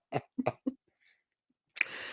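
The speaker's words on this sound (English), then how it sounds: "Oh, don't make me laugh in my cough." Three quick coughs in succession, fairly close, followed after a pause by a sharp breathy burst and hiss.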